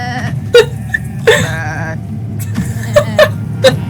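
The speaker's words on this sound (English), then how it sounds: "There's no way their sheep noises are that good." Short, wavering sheep bleats from a TV episode scene, several separate calls scattered over a low background hum, close and moderately loud, with a few vocal noises between them.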